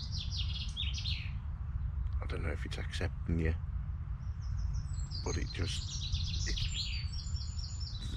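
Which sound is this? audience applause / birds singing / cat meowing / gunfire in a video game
birds singing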